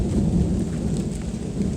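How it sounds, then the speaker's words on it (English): Steady heavy rain hisses throughout while a low, rolling rumble of thunder sounds close by for a couple of seconds. "Of course, it's raining and thundering"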